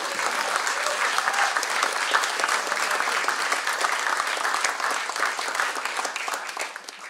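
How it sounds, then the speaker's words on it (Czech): Audience applause at an outdoor jazz festival, a sustained, dense wash of many hands clapping at an even level throughout. "od diváků byl přivítán potleskem"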